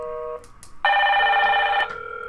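Two Hikvision Generation 2 intercom indoor units ring at once: a soft electronic tone, a short pause, then a louder steady ring lasting about a second before it drops back to a quieter tone.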